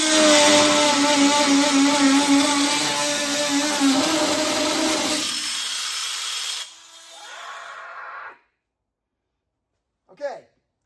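An oscillating multi-tool cranked to its top speed setting while a man works on an Erik's Firebird build, buzzing loudly and steadily for several seconds, then dropping to a lower hum before cutting out, followed by a brief faint noise near the end.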